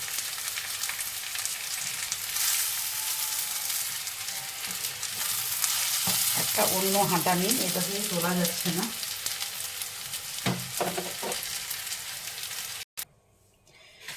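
Food sizzles steadily as it fries in a karahi on a home kitchen stove, a continuous crackle with clinks of a spatula lifting pieces out, while someone talks over it near the end.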